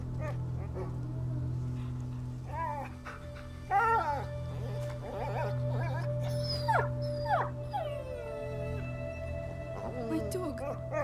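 A dog in the video game A Plague Tale: Innocence yelps, whimpers and howls in a run of rising, wavering cries over a steady low hum, close and fairly loud.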